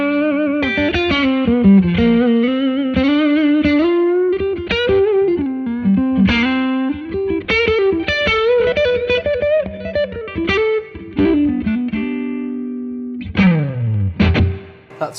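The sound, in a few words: electric guitar through Blackstar amp with reverb turned up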